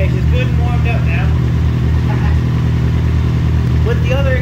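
Warmed-up Kawasaki Ninja 1000SX motorcycle with a Black Widow exhaust, a loud steady idle rumble close to the microphone, held without high revs while someone talks over it.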